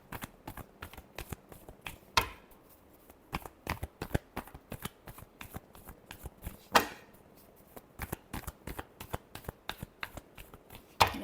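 Tarot cards shuffled by hand, a long run of quick crisp riffling snaps in uneven bursts, with a few sharper louder flicks standing out, close and clear with no talking.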